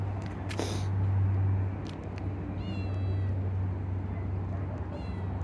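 A stray cat gives a couple of soft meows over a steady low background hum, fairly close.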